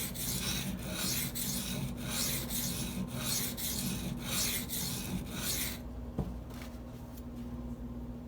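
Steady rhythmic rasping of a Spyderco Native 5 knife blade stroked over Gritomatic silicon carbide sharpening stones, repeated back-and-forth strokes up close at moderate volume over a constant low hum, then a quieter softer stretch near the end.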